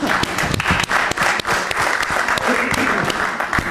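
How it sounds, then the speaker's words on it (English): A congregation at a worship service and hymn sing bursts into sustained applause, dense clapping that stays loud and steady throughout with a brief dip partway through. "I think we need a round of applause after that."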